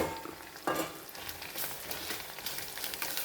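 Onion and spice masala of garam masala, turmeric and coriander powder fries in a pan, giving a dense close sizzle with an abrupt burst as the spices hit the oil, then steady crackling.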